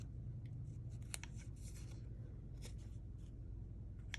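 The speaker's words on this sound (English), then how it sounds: "just cut away all this extra string" Scissors snip away extra thread from stitching on paper, giving a few faint, close clicks and crisp snips over a steady low background hum.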